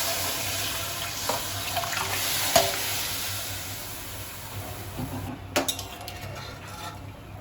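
Boiled fish tipped into a pan of cooked spice paste for a Bengali bata fish shukto, giving a soft sizzle and watery stir, with a few sharp clatters of utensil against pan near the start and end.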